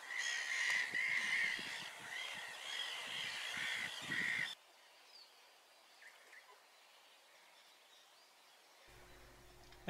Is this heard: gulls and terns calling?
yes